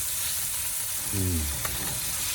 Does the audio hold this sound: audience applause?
no